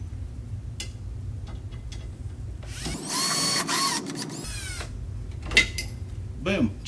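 Power tool tightening screws on a corner TV wall mount rail, a short buzzing whir of about a second and a half between scattered clicks and knocks, close by.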